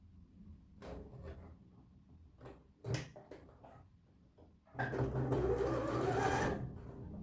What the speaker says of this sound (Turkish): buradan bilyemizi dikiyoruz